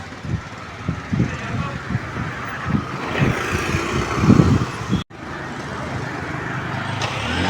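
A car passes on a road near Upvan Lake, its broad rumbling whoosh swelling as it comes close and then cut off abruptly before a steady outdoor roar resumes.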